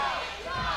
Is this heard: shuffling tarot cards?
no